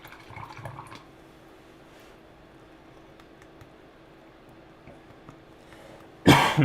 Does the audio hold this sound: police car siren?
no